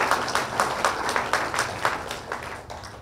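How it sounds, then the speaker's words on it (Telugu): An audience claps for Telugu teachers in a hall, an even rhythmic beat of many hands at moderate volume that fades slightly toward the end. "తెలుగు మాస్టర్స్ అందరికి గట్టిగా చప్పట్లు"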